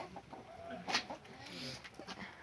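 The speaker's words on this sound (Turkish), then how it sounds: "Horoz, horozunuz ne yapıyor?" A rooster clucks and calls a few times amid farmyard background noise, with scattered voices and laughter nearby.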